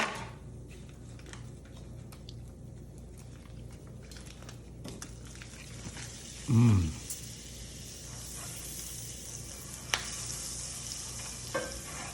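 Butter and meatball drippings sizzle at low heat in a cast iron skillet, a soft steady hiss up close with occasional stirring scrapes and a brief louder burst partway through.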